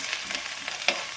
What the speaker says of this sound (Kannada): ಈ ಥರ ಫ್ರೈ ಮಾಡ್ಬೇಕು.